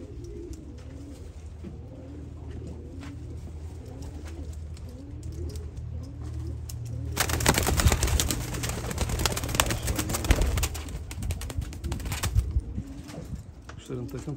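Assorted breeds of domestic pigeons cooing in a loft, low repeated coos throughout, under someone speaking Turkish; partway through a loud broad rushing noise swells over the birds.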